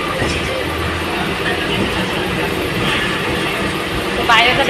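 Interior of a moving passenger train at daybreak: a steady, loud broadband rumble of wheels and carriage runs throughout, with a brief rising squeal and clatter near the end.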